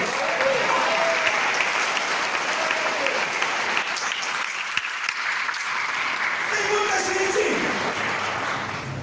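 A church congregation applauds steadily and loudly throughout, with a continuous dense clatter of clapping and crowd noise during a worship service.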